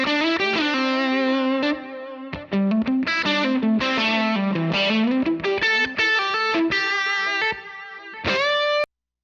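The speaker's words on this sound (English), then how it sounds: "And you hear that delay trail off." Soloed electric guitar played through a Line 6 Helix with a delay effect, notes ringing out in bursts with echoes trailing off into the short gaps between phrases, loud and close, no voices.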